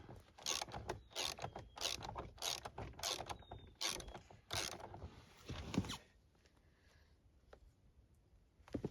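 A ratchet tightens the rear suspension of a 2001 Yamaha Venture/SXR 600 snowmobile, giving a quick run of close, repeated clicking and mechanical bursts for about six seconds before going quiet, with one faint click near the end.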